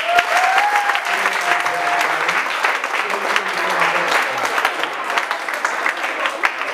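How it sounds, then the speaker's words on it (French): Applause rises at a school award ceremony for a French language competition: sustained, dense clapping from a crowd, with a brief high tone at the start and faint voices mixed into the clapping. "Tous applaudissements."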